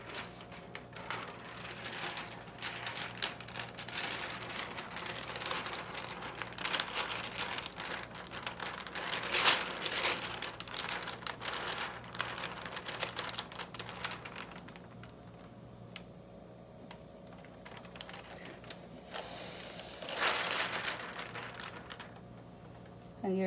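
Crinkly plastic transfer tape for a rhinestone shirt is handled and pressed down in dense, continuous rustling and crackling bursts, with a quieter stretch before a final flurry of crinkles.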